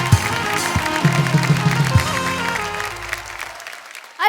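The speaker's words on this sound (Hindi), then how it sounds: "एक बार जोरदार तालियां हो जाए विनय के लिए।" A studio audience at a family comedy show applauds for Vinay, a dense clatter of clapping with a few low musical thumps underneath. The applause fades out toward the end.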